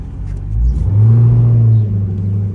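A car engine idles and then revs up in a low, swelling rumble before easing back down, close by with no talking.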